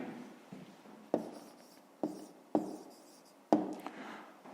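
A pen scratches across paper while a fifth-grade math exercise is written out, soft and close, with a few sharper taps and strokes standing out from the steady quiet scribbling.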